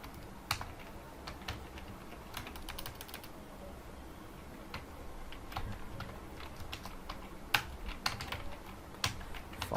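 Someone types a name on a computer keyboard while coding a PHP tutorial: soft, irregular key clicks, quiet and close, in scattered short runs with no voice.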